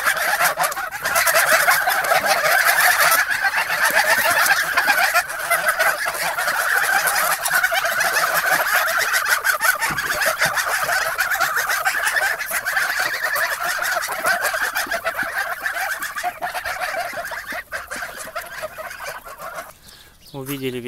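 A flock of geese and Muscovy ducks calls noisily and continuously at feeding time, honking and quacking over one another, close and loud, with a brief pause near the end.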